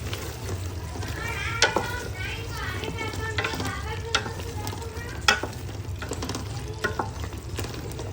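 Spiced potatoes and masala being stirred in a pot for a potato biryani, with a steady low sizzle and a few sharp spoon scrapes and knocks against the metal, no talking.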